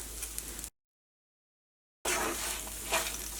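A chutney mixture is stirred in a pan with a soft sizzle and scraping, broken by a short stretch of complete silence partway through.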